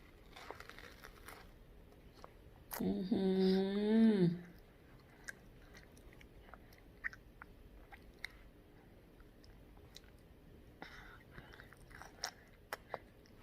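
A dog eats chunks of watermelon, giving faint, scattered wet crunching clicks. A brief, loud, wavering whine-like vocal sound breaks in early, then only the quiet chewing remains.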